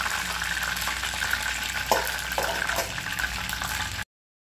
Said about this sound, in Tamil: மீதம் இருக்கக்கூடிய சிக்கனையும் நம்ம ஃப்ரை பண்ணி எடுத்துடலாம்